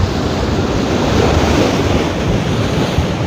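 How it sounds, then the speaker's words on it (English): Strong cold wind buffets the microphone over crashing surf on a beach at Hopton on Sea, a loud continuous roar of waves and gusts with no voices. "This is definitely not a slight breeze."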